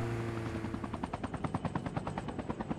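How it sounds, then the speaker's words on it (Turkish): Rapid rhythmic chopping of a helicopter rotor in Call of Duty Mobile battle royale, growing more distinct and pulsing over a few seconds, fairly faint and mixed with game-like sound effects. "Aha, helikopter sesi duyuyorum arkadaşlar."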